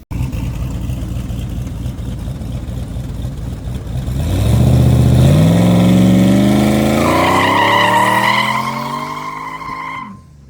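A drag car launches hard on rear tires lowered to 20 pounds of pressure, a steady engine idle rising into a loud, climbing roar that holds for several seconds, then cuts off abruptly near the end.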